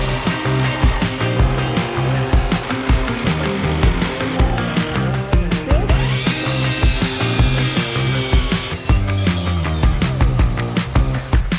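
A power saw cuts angled cuts through wooden deck joists, a loud continuous whine with busy mechanical clatter that shifts in pitch partway through, close by with no talking.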